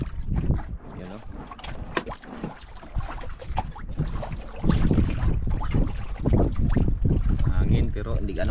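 Wind buffeting a small fishing boat out at sea, a steady rough roar of gusts and water noise close to the microphone throughout, louder in the second half.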